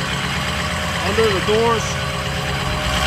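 A 2003 Ford F-350 Super Duty diesel engine idles with a steady, even low rumble while someone talks over it.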